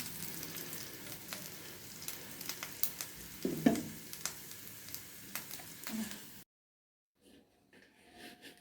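Paratha frying in butter: a soft, steady sizzle with scattered small crackles and a brief louder spatter midway, continuing for several seconds before stopping abruptly into near silence.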